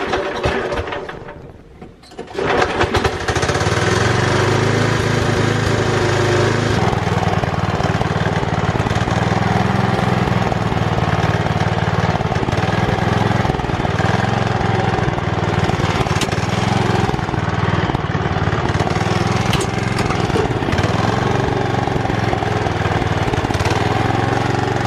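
Racing lawn mower engine cranking and catching, then running loud and close with a steady, rough drone and slight rises and falls in revs as it is driven.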